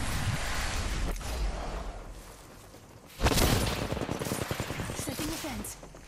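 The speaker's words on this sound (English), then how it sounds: "Getting shot at." Enemies open fire in the video game Apex Legends with rapid automatic gunfire, which breaks out loud and close partway through after a stretch of quieter ambient noise, with brief speech mixed in.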